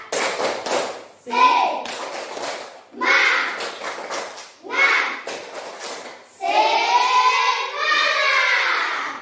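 Children in a group doing a rhythmic tepuk semangat clapping chant, bursts of sharp claps in short patterned phrases with chanting voices, ending in a longer sung stretch.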